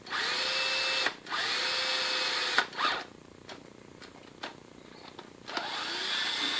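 A power drill bores a round hole, whining loudly at steady speed in several long bursts with short pauses and a quieter, lower stretch in the middle while the bit cuts, no voices.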